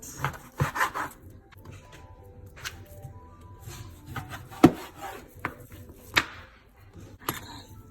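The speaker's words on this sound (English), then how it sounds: "I'm going to cut it into chunks about 1/2 inch to 1 inch thick" A knife cuts a beef roast into half-inch to one-inch chunks on a board, giving a series of sharp, irregular chopping taps and soft scraping rubs at close range.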